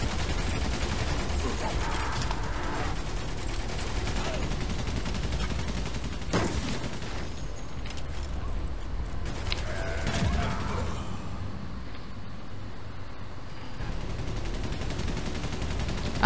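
Gunfire in the First World War video game Valiant Hearts: The Great War, a dense continuous barrage of shots and bursts with brief louder cracks, steady and close throughout.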